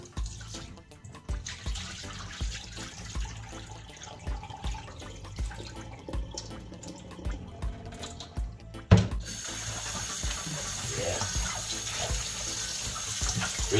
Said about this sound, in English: Rinse it for the last time, One more rinse and that's it.